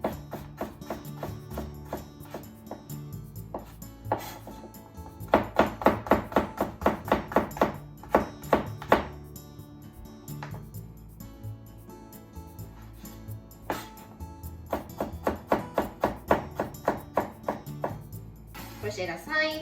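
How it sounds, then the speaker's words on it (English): A knife slices carrot thinly on a cutting board, producing rapid rhythmic taps in several clustered bursts with brief pauses, close and crisp over faint background music. "Put them face down and slice thinly."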